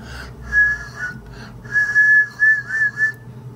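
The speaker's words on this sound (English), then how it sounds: "before you actually get the whistle" A beatboxer produces a Ralic whistle with the mouth, a thin sustained tone heard in two separate bursts, the second longer and slightly wavering, close and fairly loud with no talk.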